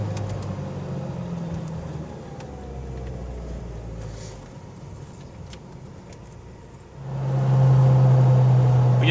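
A 1986 Ford Mustang SVO's turbocharged engine pulls through the gears from inside the car, its drone rising and dropping at each shift, then swelling loudly as it accelerates again near the end.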